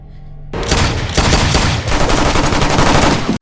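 A burst of rapid automatic gunfire in a tense action scene from The Bourne Legacy, loud and sustained for about three seconds with dense overlapping shots after a brief quiet start.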